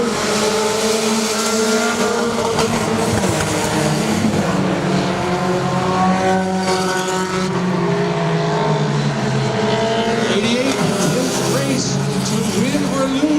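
Race cars battling on the final lap at Saratoga Speedway, engines roaring loud and continuous with rising and falling pitch as cars pass, under excited commentary.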